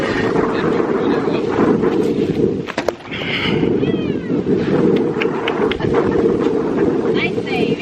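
Steady, loud wind buffeting a microphone outdoors, a constant low roar with brief gusts, while a person speaks and animals make faint sounds nearby.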